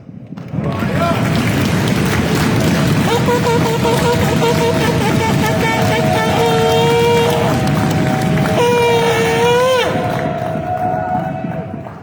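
A crowd at the Masharah Yasharahla Summit bursts into loud, sustained applause and cheering, with whoops and shouts riding over dense clapping that holds steady before easing off at the end.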